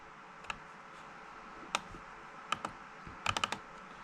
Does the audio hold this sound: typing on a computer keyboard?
yes